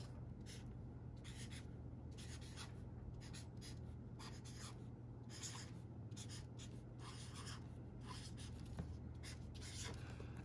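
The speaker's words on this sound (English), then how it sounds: "I'm going to write the numbers 1 through 10 at the bottom" A marker writes numbers on paper: soft, close, repeated scratchy strokes in short bursts over a steady low hum.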